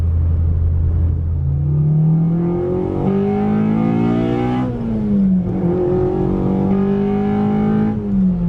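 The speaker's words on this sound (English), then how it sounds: "The exhaust is super quiet. I gotta like that. The intake is probably the loudest thing on the car." A Honda B18C Type R engine swapped into a 2000 Civic Si runs and revs up through the gears, a loud rising intake-heavy drone with quiet exhaust, each pull climbing then dropping at the shift.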